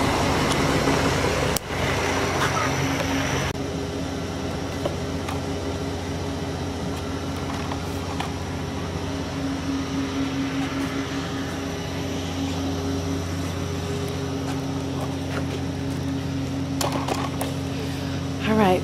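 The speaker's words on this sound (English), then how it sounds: "I wish that truck would go away. It's making like all this hissing sound." An outdoor spot beside a gazebo where a nearby truck hisses steadily, giving a broad, constant airy noise over an engine rumble for the whole stretch.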